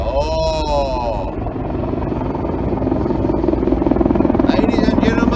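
An AH-64 Apache military helicopter passes overhead near Mills River, a steady loud rotor and engine roar that swells toward the end, with talk heard during the flyover.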